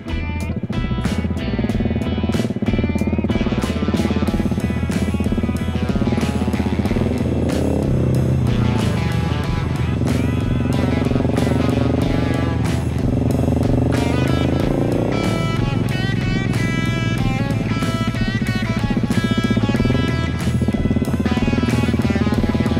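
Husqvarna 701 Enduro motorcycle riding a mountain route, its single-cylinder engine droning steadily and loud throughout, pitch rising and falling with gear changes and throttle.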